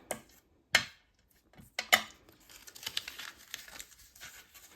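Sheet of vellum paper folded by hand in a few sharp crinkling bursts, followed by softer rustling and handling noises, close and fairly quiet.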